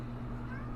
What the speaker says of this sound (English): sorry if you heard my cat meow.